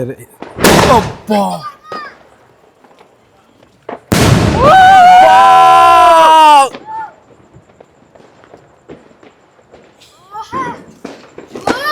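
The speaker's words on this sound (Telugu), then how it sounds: "ఇది ఈ మాత్రం చాలా బాగా పేలినిరా మామూలుగా చాలా బాగా పేలిని సూపర్ కలర్స్ వచ్చినాయి" Diwali fireworks burst loudly nearby: a sharp blast, then a long crackling, whistling shower lasting a few seconds, with scattered smaller pops while people talk and exclaim between bursts.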